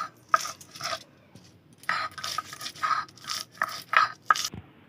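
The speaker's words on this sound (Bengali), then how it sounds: "দশটা কাঁচা লঙ্কা নিয়ে নিয়েছি বেটে নেব" Green chillies being ground into a paste on a grinding stone, a stone rubbing in repeated scraping strokes that come in short bursts with small pauses between them, close and moderately loud.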